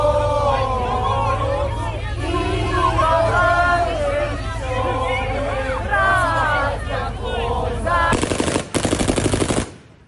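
Rapid bursts of gunfire crackle near the end, following a long stretch of loud crowd shouting and chanting during a protest against occupying forces in Luhansk region, Ukraine.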